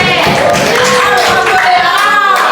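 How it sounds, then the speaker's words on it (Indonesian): Classroom group clapping hands, a dense, loud burst of many palms mixed with voices calling out, continuous and close. "tepuk tangan untuk kelompok berapa?"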